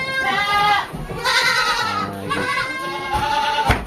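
Goats bleating at a busy livestock market where goats are sold, several loud, wavering bleats overlapping one another in close succession, with crowd noise beneath.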